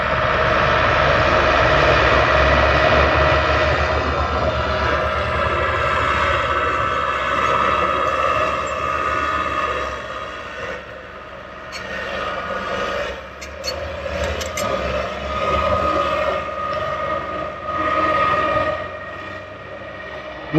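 A small bulldozer moves gravel and topsoil at a workshop building site, its heavy engine droning loud and steady throughout, with some rises and dips in intensity as it works.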